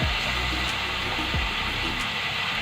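Mutton frying in a pan for kurma, a loud, dense, continuous sizzle with a hissing, airy texture and no talk, steady throughout the short stretch.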